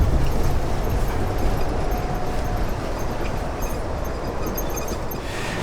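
A steady low rumble and rattle of a moving train heard from inside an empty car, continuous and fairly loud with faint clanks over the drone.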